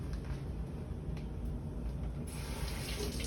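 Tap water runs into a kitchen sink while corn cobs are rinsed, a soft continuous splash and gurgle heard close and fairly quiet, with the flow brightening partway through.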